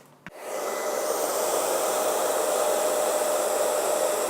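A click, then a hair dryer roars to life and blows steadily, a loud, close, unbroken airy whoosh.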